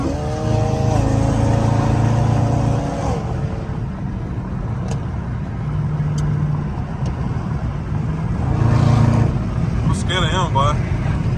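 Dodge Scat Pack and Camaro ZL1 muscle cars running hard through traffic, a loud steady engine drone with rising and falling revs and a sharper high whine near the end, with people talking over it.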